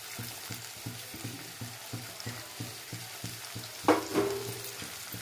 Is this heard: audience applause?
no